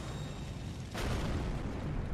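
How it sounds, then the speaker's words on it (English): A sudden broadband explosion in the video game Elden Ring bursts in and keeps roaring as a dense rumble over the game's low ambient drone, with no voices. "I saw that explosion."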